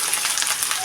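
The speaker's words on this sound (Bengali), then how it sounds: "এগুলো একটু ভাজা ভাজা করে নেব।" Onion, garlic, ginger and green chili frying in oil give off a loud, close, dense crackling sizzle through a brief moment, with no talking.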